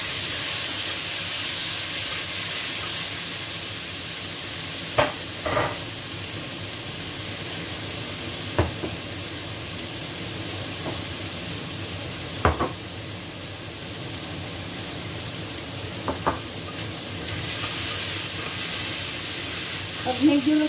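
Chopped tomatoes fry in a pan for Ilokano-style pinakbet, giving a steady, close hiss of sizzling oil. A few soft knocks and stirring taps break it up now and then.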